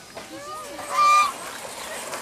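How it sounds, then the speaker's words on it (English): A small goose at a farm in Davis honks several times, nasal calls with one louder, sustained honk in the middle, heard fairly close against light background chatter. "That's this little goose."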